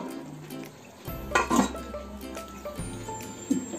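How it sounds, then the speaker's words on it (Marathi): Metal lid set onto a cooking pot of bitter field bean curry, with a few light clinks and a short metallic clatter as it settles, then quieter kitchen noise. "आता मी झाकण लावून ठेवून देते"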